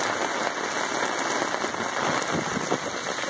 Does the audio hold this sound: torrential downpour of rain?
yes